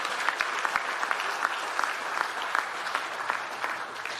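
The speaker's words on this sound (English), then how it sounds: "What about a round of applause to all 5 of our finalists?" An audience at an agricultural innovation awards ceremony applauds the five finalists, sustained even clapping with crisp individual claps standing out against the crowd.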